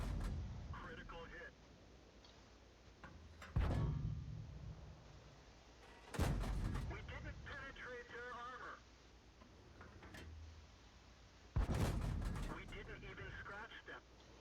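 Tank cannon fire from an M4A3E2 Sherman Jumbo firing HP rounds in a World War II tank video game at Kharkov: three sharp booming blasts spaced a few seconds apart, each with a short rumbling tail, over a low engine drone.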